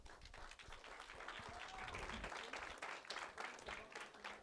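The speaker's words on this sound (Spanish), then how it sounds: "Entonces les pido por favor un muy fuerte aplauso para Xavier Abreu." An audience gives a loud round of applause for a speaker at a formal talk, dense continuous clapping from a crowd that stays strong for several seconds, faintly heard at a distance.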